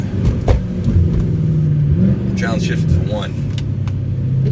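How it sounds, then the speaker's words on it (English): Mercedes-Benz C63 AMG with RennTech P31 tuning droning and revving in a tunnel, its engine note rising and falling as it downshifts, loud and close, under someone talking. "we got a tunnel, so we'll downshift it to 1"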